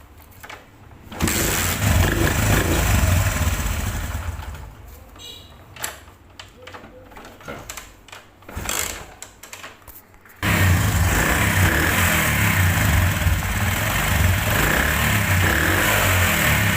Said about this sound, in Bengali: এবার সাউন্ড দেখাবো বাইকের। সাউন্ডটা কেমন আছে।